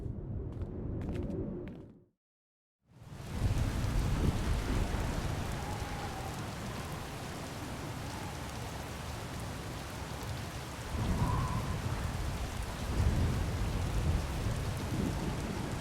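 Heavy rain pours down in a thunderstorm in the SWTOR game world, a dense, continuous roar of rainfall with low rumbling thunder swelling in the middle, after a brief tonal opening and a moment of silence.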